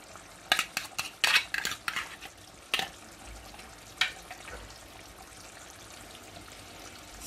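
Fish from cans of tuna, sardine and mackerel goes into a pot of corned beef stew, with a cluster of sharp metallic clinks and scrapes at the start, then a softer stir and a low, steady simmer.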